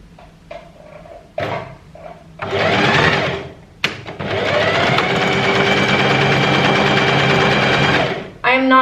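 Sewing machine running a straight stitch through cardigan fabric with white cotton thread, a few short bursts then sustained loud whirring close by for several seconds, after some small handling clicks.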